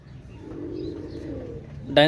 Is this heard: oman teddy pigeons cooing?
yes